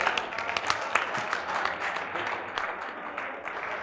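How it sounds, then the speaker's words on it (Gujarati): Loud applause from an audience at a Gujarati poetry gathering in Godhra welcomes the poet Mohsin Mir, a dense, steady patter of many hands clapping close by. "જોરદાર તાળીઓ"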